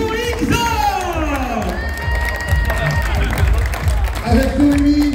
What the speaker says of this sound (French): Je vous demande d'applaudir d'abord notre équipe, s'il vous plaît